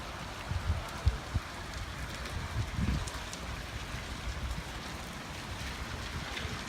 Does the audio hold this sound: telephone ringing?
no